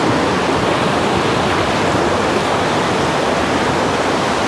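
Steady, loud broadband rush of the Quay Son River in Cao Bang, Vietnam, flowing past a wooden water wheel, a continuous roar like a small waterfall with no voices.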